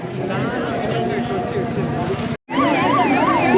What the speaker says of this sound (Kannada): ನೋಡಿ, ಎಮರ್ಜೆನ್ಸಿಗೋಸ್ಕರ ಅಗ್ನಿಶಾಮಕ ವಾಹನಗಳು ಹೋಗ್ತಾ ಇದೆ